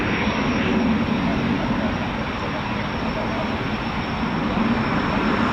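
A Eurofighter Typhoon FGR4 jet at an RAF station, with a loud, sustained broadband engine roar that stays constant throughout.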